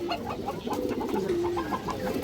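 High-quality silver khaki male pigeon cooing up close, a short run of soft rolling throaty coos repeated in quick succession.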